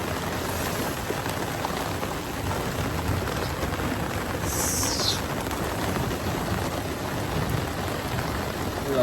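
Steady heavy rain pours down without pause, a dense hiss of drops on surfaces, with no voices.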